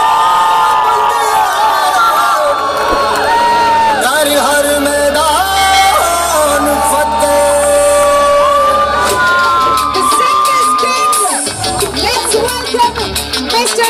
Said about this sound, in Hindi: दोनों हाथ ऊपर, जोरदार तालियां